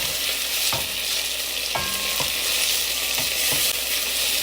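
Mbinzo caterpillars fry in a pan with a steady, close sizzle, broken by a few sharp scrapes and taps as they are stirred.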